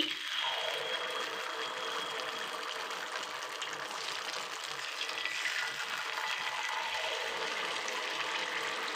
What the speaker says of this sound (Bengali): তেল গরম হয়ে গেছে, আস্তে আস্তে ঢেলে দিচ্ছি।